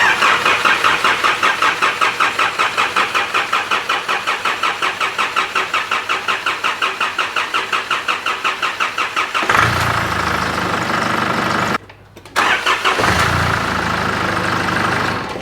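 A 3.0L car engine after fuel pump work cranks with a long, rapid rhythmic starter chug for about nine seconds, then catches and runs, with a brief drop before settling into a steady close idle.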